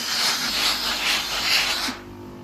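A steam generator iron releases a loud, steady hiss of steam for about two seconds, then cuts off abruptly and leaves a quieter background.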